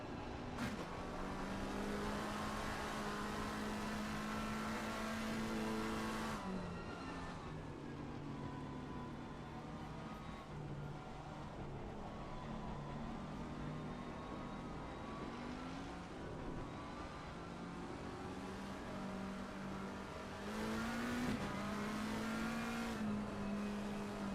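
GT3 race cars lapping the Snetterton circuit in a sim racing game, their engines droning steadily and loudly with pitch shifts as they brake and accelerate through the corners, and no voices.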